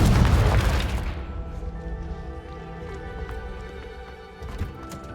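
Confringo blasting spell going off in Hogwarts Legacy on Xbox Series X, with a loud booming explosion at the start that rumbles and decays over a few seconds into game ambience, and a small thump near the end.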